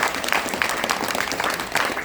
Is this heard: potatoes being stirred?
no